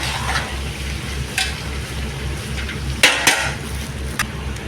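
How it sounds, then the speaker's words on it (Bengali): Ingredients are stirred and mixed in a cooking pan, a low continuous sizzle broken by a few sharp scrapes and taps of a spoon against the pan, close and fairly loud. "দেখতেই পাচ্ছ, এখন এটা ভালো করে একটু মিক্স করে নিই।"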